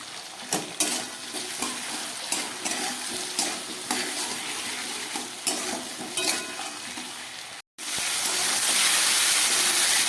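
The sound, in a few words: vegetables frying and stirred with salt and turmeric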